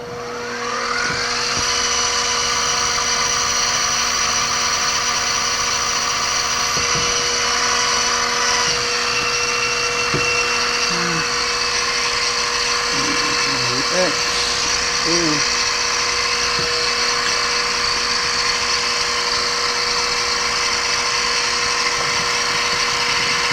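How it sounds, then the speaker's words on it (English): A steady high-pitched drill whine runs continuously and loudly throughout, with a few brief voice fragments faintly underneath. "And then we'll drill away."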